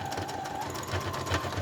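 Sewing machine stitching a tie-dye fabric mask, a quiet rapid mechanical chatter with regular pulses, faint and continuous over a short stretch.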